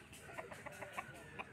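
A rooster at a market, a large bird of about 3.5 kilos, gives a string of soft, quick clucks, faint and close against a quiet background.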